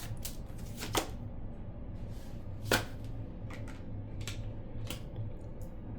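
A deck of tarot cards is shuffled close up, with soft continuous riffling and a few sharp snapping taps of the deck, quiet and alone.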